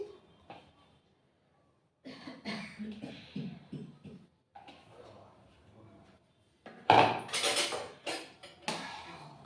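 Cauliflower pieces go into water in a pot in a home kitchen, heard as intermittent clinks, knocks and splashy rustles that come in short bursts with quiet gaps, louder clattering near the end.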